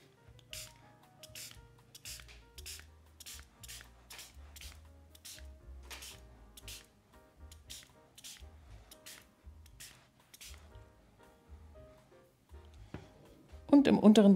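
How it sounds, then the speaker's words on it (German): A spray bottle mists water onto a watercolour painting, a rapid series of short, sharp hissing squirts in steady rhythm, close and fairly loud, followed by a louder rustle at the very end. "Nun sprühe ich das Ganze noch mit der Sprühflasche an."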